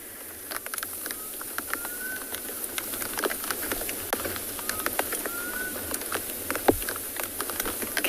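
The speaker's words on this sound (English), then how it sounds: "Can you hear the rain?" Soft rain falls in big droplets on a safari, scattered distinct taps pattering irregularly over a quiet outdoor background, with birds calling and cooing now and then.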